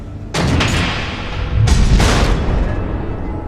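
Two heavy missile explosions from the video game Batman: The Enemy Within, each a booming, rumbling blast that roars and then decays, the second following about a second after the first.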